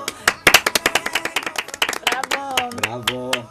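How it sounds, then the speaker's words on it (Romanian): An audience claps in rhythm with sharp, loud hand claps, while a singing voice and music come in toward the end. "Noi aplaudăm, nu?"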